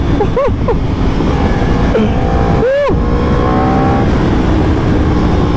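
A Yamaha R1 sport motorcycle engine revs hard and aggressively nearby, the pitch sweeping up and dropping in quick blips over a constant loud mechanical roar.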